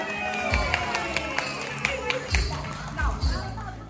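Clapping and cheering at a boy's 10th birthday celebration, a crowd of family applauding together in a lively room, with voices chattering throughout.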